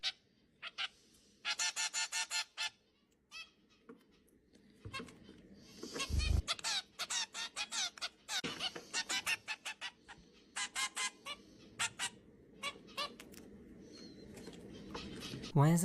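Chickens cluck and chatter in rapid bursts while being fed, with scattered squawks and rustling, fairly close and moderately loud.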